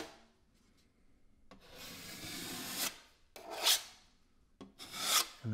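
A drywall knife scrapes over joint compound with pressure on one side of the blade, giving several long rasping strokes, close and fairly loud, each ending in a sharper scrape, with no talking.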